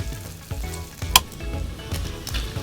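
Noodles and onion stir-frying in cooking oil for a Shin Ramyun Toowoomba-style dish, a steady close sizzle broken by utensil scrapes and clicks as the food is tossed, with one sharp metallic tap partway through.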